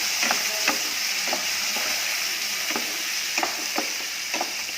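Finely chopped onion and tomato fry in a pan with a continuous sizzle, broken by repeated scraping clicks of a spoon stirring the mixture at an uneven rhythm, close and alone.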